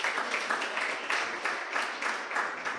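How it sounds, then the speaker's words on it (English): An audience applauding after a public debate with students, giving loud, sustained clapping that swells and falls in a rough, pulsing rhythm throughout. "I want you to clap for yourselves on that note"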